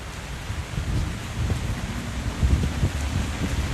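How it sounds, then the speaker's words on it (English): Rain falls in Texas after a summer-long 2022 drought, a close, steady patter with low rumbling gusts and wind buffeting on the microphone, and no one speaking. "It is raining, and so it's kind of a big deal right now."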